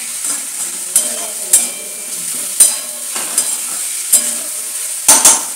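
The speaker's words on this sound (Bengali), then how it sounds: "তাই একটু নাড়িয়ে নি, গ্যাসটা বাড়িয়ে দিই হালকা।" Crushed black pepper is stirred in a frying pan on a gas stove, with repeated sharp scrapes and taps of a spoon against the pan over a light sizzle, close up and without speech.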